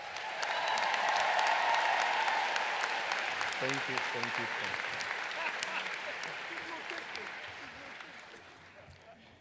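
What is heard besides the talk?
audience applause for professors and mentors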